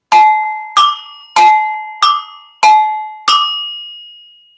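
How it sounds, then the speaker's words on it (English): Six bright metallic strikes on agogo bells ring out alone at an even pace, alternating between a lower and a higher pitch, each decaying quickly. "this is called the agogo bells"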